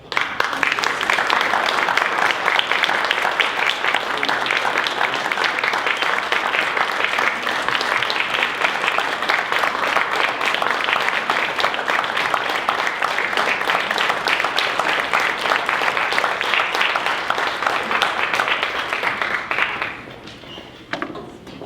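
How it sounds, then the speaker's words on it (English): Sustained audience applause fills a school board meeting room, steady dense clapping lasting about twenty seconds before tapering off abruptly near the end. "Please join me in a round of applause"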